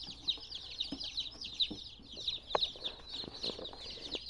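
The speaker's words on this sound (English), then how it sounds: "these are Buffalo Orpingtons. They're about to get picked up. They're awfully cute." Buffalo Orpington baby chicks peeping constantly in a group under a heat lamp, a steady stream of high, soft chirps at close range.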